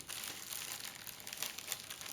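Paper for handmade card-making being handled, giving a soft, continuous crinkling and rustling close by, faint and with no talk.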